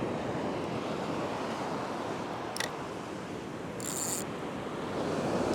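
Ocean waves washing onto a beach shore during surf fishing, a steady broadband roar with wind buffeting the microphone, continuous and fairly close, with a couple of brief mechanical squeaks and no talk.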